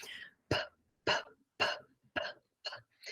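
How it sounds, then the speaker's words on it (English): Six short, sharp breathy bursts at steady intervals, each a quick forceful puff of air pushed through the lips, close and clear with silence between. "So there's going to be a puff through our lips."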